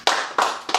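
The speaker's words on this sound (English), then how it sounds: "Clap yourself." A language class claps for itself, three quick, sharp bursts of hand claps in a close, even rhythm.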